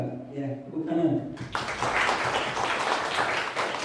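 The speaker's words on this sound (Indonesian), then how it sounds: "tepuk tangan" After a talk and a short spoken exchange, a small group breaks into applause for a student's presentation, brief close clapping that starts suddenly and holds steady.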